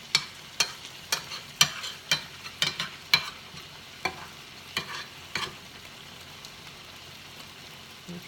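Nigerian fish stew cooking in a pot, with a spoon clicking against the pot in a quick regular run of taps that fade and thin out, over a soft bubbling sizzle and no voices.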